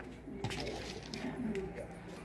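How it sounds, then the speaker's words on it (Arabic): Pigeons cooing softly at a rural spot, a few low muffled coos amid faint rustling and background noise, with someone speaking briefly nearby. "شوف الحمام ما شاء الله"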